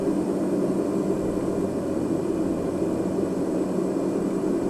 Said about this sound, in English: Now we're gonna set cruise power, so maximum ITT of 740 will be below that. I'm gonna bring my prop RPM down to 1700.